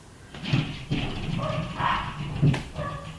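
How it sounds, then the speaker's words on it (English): Several dogs bark excitedly indoors, a few sharp barks breaking through a busy background of whines and yelps. "Sorry, my dogs are like going crazy."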